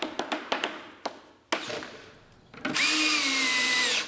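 A power screwdriver drives screws into the wooden lid of an apothecary cabinet: several quick taps and thumps as screws are set, then a steady, loud high-pitched whir of the motor running near the end.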